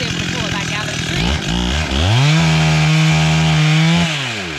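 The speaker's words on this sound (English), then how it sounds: "If you notice, the chainsaw is now sinking down, so he's able to pull it back out of the tree." A chainsaw cuts into a hickory log, its engine revving up from a rough idle into a loud, steady, high-pitched whine under load, close by and dominating everything.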